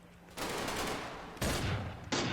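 Gunfire in the video game Garry's Mod during a SWAT arrest, three loud bursts of shots and fusillades, close and harsh, with no talking over them.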